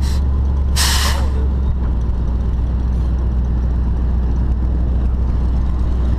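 A heavy truck idles with a deep, steady engine rumble, broken about a second in by one short, loud burst of air-brake hiss before the drone carries on alone.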